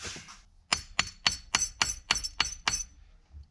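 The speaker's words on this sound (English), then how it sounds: "I need a little hammer." Eight sharp, evenly spaced metallic taps from a small hammer, bright and ringing, close by, after a brief soft rustle, while installing a short shifter in a Toyota Altezza SXE10.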